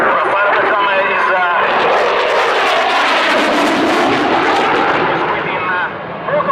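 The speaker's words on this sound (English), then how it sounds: "will push Eurofighter from 400 knots minimum speed to about Mach 2 maximum speed. Again, 400 knots in this 9G turn" Eurofighter Typhoon jet flying a 9G turn at an Italian Air Force display, a loud roaring jet engine sweep that builds and then fades, with a crackling rumble at the peak.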